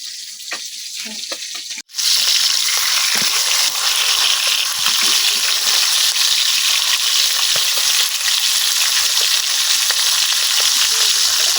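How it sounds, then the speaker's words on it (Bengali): Khoilla fish frying in hot oil, a loud continuous sizzle that bursts in after a quieter start and stays dense and steady throughout, close up with no talking. "বাকি পাঁচটা আমি সুন্দর করে ভাজে নিলাম।"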